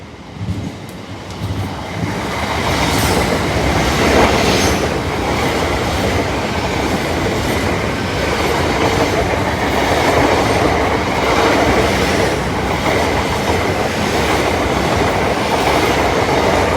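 Paragon train, units 301 and 303 bound for Hull, rolling through Brayford level crossing near the railway station, a loud steady rumble of wheels and carriages sustained close by with faint clickety-clack throughout.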